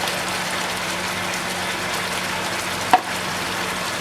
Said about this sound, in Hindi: और अब इसकी हल्की आंच पे करेंगे भुनाई